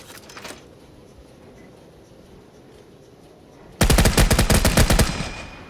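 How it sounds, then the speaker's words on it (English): A Gatling gun in the video game Volcanoids opens fire with a loud, rapid, continuous burst of shots after a few seconds of quiet background hum. "This is the Gatling gun."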